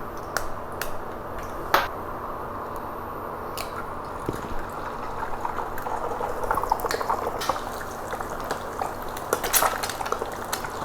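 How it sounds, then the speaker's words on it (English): An egg cracked into hot oil fries with a faint, steady crackle and scattered sharp pops and spits throughout, with no talking. "We're going to break the egg into this hot oil."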